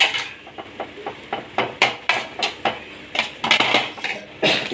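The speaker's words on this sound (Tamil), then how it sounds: "இப்போ கொஞ்சம் மெதுவாக கொத்தணும்" Metal spatulas chop chicken shawarma on a flat griddle, making a steady run of sharp, close clanks and scrapes at a moderate pace with no talking.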